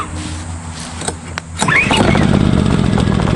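An Engel 2500W petrol generator is pull-started: after a quiet stretch with a sharp cord-pull transient, the engine catches and settles into a loud, steady close-up run for the remaining couple of seconds.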